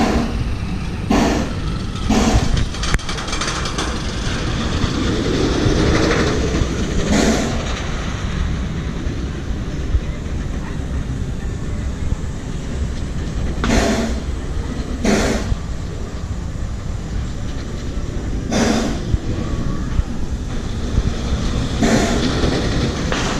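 A roller coaster runs at Six Flags Over Texas, a wooden ride reworked by RMC. It rumbles and roars steadily, and sharp bursts of clatter or screams break through at intervals.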